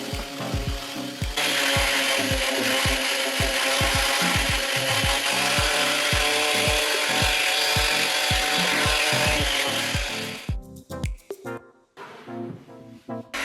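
A wooden box's edges being worked on a drum sander, a loud continuous rubbing grind with rapid rhythmic thumps that stops near the end, leaving scattered knocks and scrapes.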